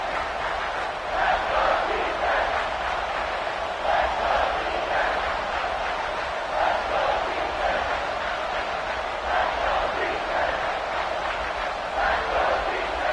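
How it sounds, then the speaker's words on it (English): Loud, sustained roar of a stadium crowd at Neyland Stadium during a college football game between LSU and Tennessee on third down, a dense wash of cheering and yelling that holds steady throughout with slight surges. "The noise reverberating off the checkerboards in Neyland on 3rd down."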